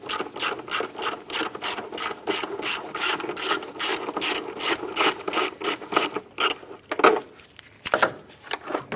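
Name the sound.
8mm socket and ratchet removing airbox bolt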